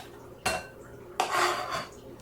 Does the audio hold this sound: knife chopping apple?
yes